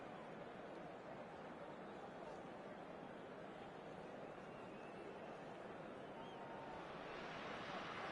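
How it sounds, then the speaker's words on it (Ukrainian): Ocean waves heard as a steady, dense rushing wash with a low rumble, continuous and fairly faint, with no distinct breaks and no talking. "От океан."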